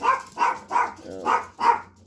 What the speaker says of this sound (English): There's the dog outside barking.